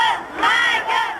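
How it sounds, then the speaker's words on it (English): A crowd of adoring Michael Jackson fans shouting and screaming together, loud sustained wavering cries in two or three swelling bursts, with no talking over them. "crowds of adoring fans shout for him day and night"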